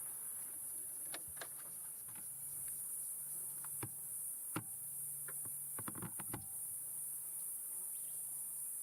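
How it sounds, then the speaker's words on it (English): Cicadas in the African bush make a steady high, faint shrill drone that runs throughout, with scattered clicks and small knocks beneath it. "Listen to all these cicadas."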